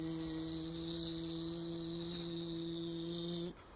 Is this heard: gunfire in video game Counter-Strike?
no